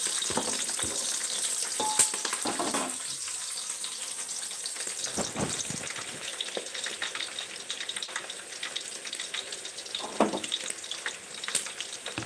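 Green chillies crackle and sizzle in a hot tempering, a close, fairly quiet frying hiss with irregular bursts of spitting and pops scattered throughout.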